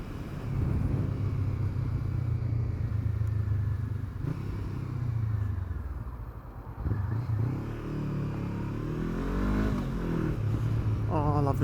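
A small 250cc motorcycle engine runs after a bump start, a steady close rumble with a few rising revs, while a person talks over it.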